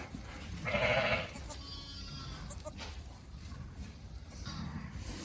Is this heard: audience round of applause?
no